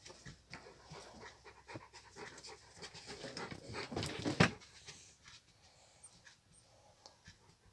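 Dogs pant rapidly and steadily at close range, with a few soft whimpers and sniffs rising midway before settling back into quiet breathing.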